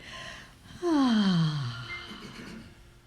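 A group takes a deep breath together, a long loud inhale-exhale sigh swelling near the middle of the quiet moment.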